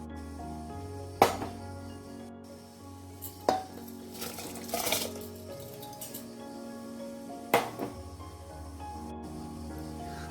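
A spoon stirs rice in a steel pressure cooker, making a few sharp metallic clinks and scrapes spaced several seconds apart over a quiet kitchen background.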